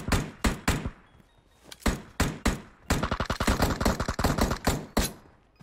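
Gunfire crackles in PUBG Mobile: a few spaced single shots, then a fast, dense run of repeated shots, sharp and fairly close, with no talking.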